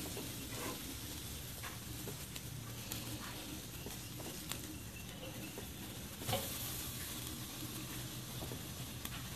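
Fish fillets sizzle on an outdoor grill, a soft, steady hiss with scattered pops and crackles and one slightly louder tick, no voices over it.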